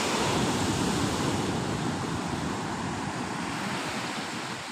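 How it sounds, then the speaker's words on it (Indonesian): Ocean waves wash continuously onto Tambarjo beach, a loud, steady broadband roar of surf mixed with wind across the microphone, easing slightly toward the end with no talking. "Ini di pantai Tambarjo kawan."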